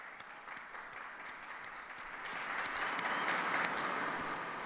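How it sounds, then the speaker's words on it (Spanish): A crowd claps at a distance, a soft, steady patter of applause that swells slightly and grows fuller midway through. "Un aplauso al nuevo beato."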